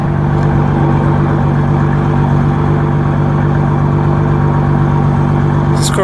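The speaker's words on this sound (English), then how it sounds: "Give you a little sound of the exhaust." A 2000 Ford Mustang V6 convertible idles with a steady, even exhaust rumble heard up close, unbroken and constant throughout with no talking.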